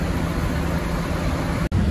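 Bandung Express intercity bus bound for Surabaya pulling out of a terminal, a steady loud engine roar with broad road noise throughout and a brief dropout near the end.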